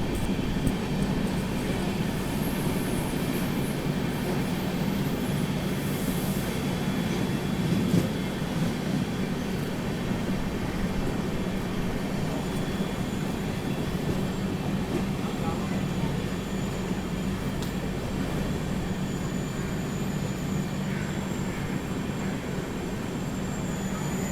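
The Mumbai Rajdhani Express runs slowing through the Kasara Ghat, a steady, loud rolling rumble of the train with broad wind and track noise throughout, no distinct clanks or horn.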